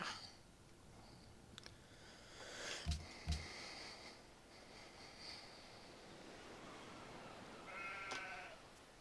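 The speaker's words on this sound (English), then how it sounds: "I just heard a sheep." A sheep bleats faintly a couple of times in the video game Civilization V: Brave New World, over a quiet hiss of background noise, with a brief soft thump near the start.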